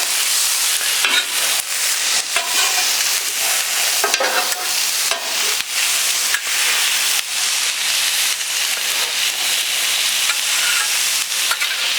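Sliced peppers and onions tossed and stirred with oil, a continuous hissing, sizzling scrape with irregular clatters throughout, close and fairly loud with no talking.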